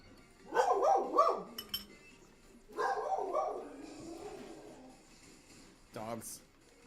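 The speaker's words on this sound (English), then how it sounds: "Dogs." Several dogs bark in short bursts at moderate distance, with a few clinks in between. People talk over and between the barks.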